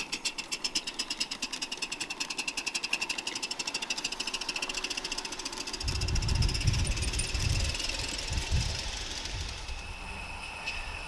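An Accucraft C-18 live steam model locomotive on its first steaming, chuffing in a rapid, steady mechanical beat that grows heavier and rougher partway through as it works harder nearby.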